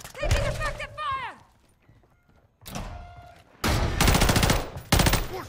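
A voice calls out early on, then a loud, rapid burst of automatic gunfire rattles through the second half, with a short single shot in the middle of a video game firefight.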